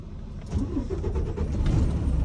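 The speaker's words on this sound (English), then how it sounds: "clutch all the way in, turn the key on, let the computer talk to the engine" A truck engine is started with the key, the motor cranking and catching into a steady, close, loud rumble that keeps building slightly as it idles.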